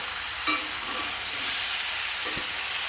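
Water poured into a hot frying pan of Bengali fish curry with young pumpkin and drumsticks sets off a soft, steady hiss and sizzle, joined by a brief clink of a utensil.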